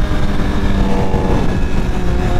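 A BMW S1000RR sportbike pulls hard under acceleration, its engine a loud sustained roar with rising harmonic whine and wind rush, close to the rider and without any speech.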